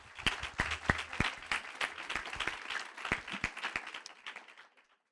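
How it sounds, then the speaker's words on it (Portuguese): Audience clapping at a live talk event: a lively burst of individual claps that gradually thins out and fades to silence after about five seconds. "Palmas aí."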